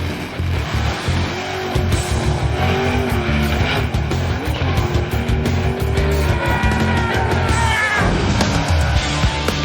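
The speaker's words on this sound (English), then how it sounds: "To perform a wheel stand, you get a rear-wheel drive car" A loud, roaring 650-horsepower rear-wheel-drive car engine revs hard and continuously during a wheel stand, with squealing tires and harsh mechanical noise throughout.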